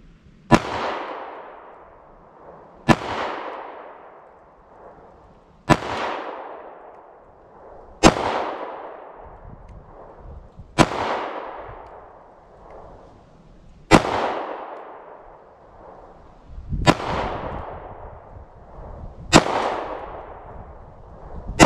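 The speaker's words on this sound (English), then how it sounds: "All right, try it one more time with this 9mm." A Taurus G2C 9mm pistol fires at a target outdoors, eight loud single shots spaced a few seconds apart, each sharp crack followed by a fading echo.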